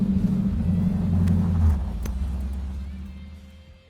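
A 1967 Chevrolet Camaro SS with an LS3 engine rumbles close by at low speed while being driven into a trailer, its engine note swelling briefly and then fading away.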